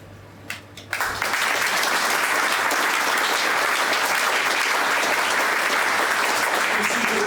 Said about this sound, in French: je souhaite que vous applaudissiez mon camarade Philippe Lejeune